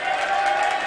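Crowd of SAIT alumni cheering in the stands at a college men's basketball game between SAIT and George Brown, a steady dense roar of voices sustained throughout.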